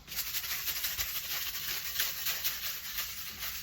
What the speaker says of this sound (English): We'll go ahead and cap that and give that a nice little shake here.